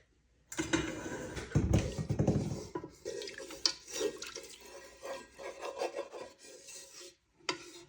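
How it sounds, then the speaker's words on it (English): Hot water pouring and splashing into a metal pressure pot while cooking curried oxtail, with scraping and clinking of cookware, close by and uneven. "So I'm going to pour some hot water."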